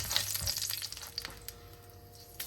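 Nigella seeds, a small piece of cinnamon and bay leaves hit hot frying oil for a Bangladeshi fish kofta curry, giving a soft crackling sizzle with small pops and light stirring, close and quiet.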